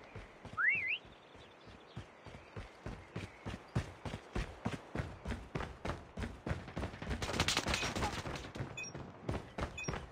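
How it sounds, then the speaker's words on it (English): A whistle gives one short rising blast at the start, then rapid, steady thumping impacts like running footsteps or drills continue loudly through the rest, with a few faint high tones near the end. "Next whistle in 10 seconds."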